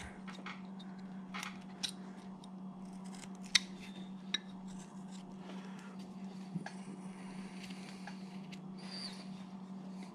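A knife hand-carving a wood block into a figure, scattered soft scraping cuts and a few sharper clicks over a low steady hum, close and quiet.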